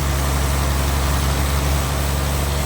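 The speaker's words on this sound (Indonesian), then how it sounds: "forklift, mesin pengangkat kayu sudah mengangkatnya" A forklift engine lifts a giant log at a sawmill, a loud, steady, low rumbling drone that holds unchanged throughout with no voices over it.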